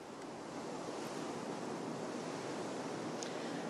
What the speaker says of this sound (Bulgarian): Силен вятър и високи вълни, така остава морето и днес.